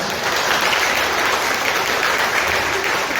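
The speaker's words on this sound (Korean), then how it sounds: "힘찬 박수 부탁드리겠습니다" A roomful of party members applauds steadily and loudly at a Democratic Party members' meeting in a conference hall, a dense, even wash of clapping that lasts throughout with no gaps.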